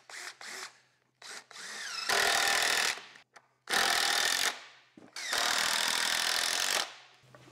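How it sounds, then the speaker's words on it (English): A power driver screwing wooden boards of a solar array ground mount together, three long loud whirring bursts with brief high starts and stops in between, close and alone. "I'm gonna go ahead and start screwing this together."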